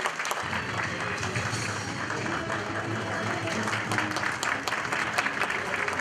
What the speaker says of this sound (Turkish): alkışlarınızla Sayın Türkan Şoray sahneye geliyor.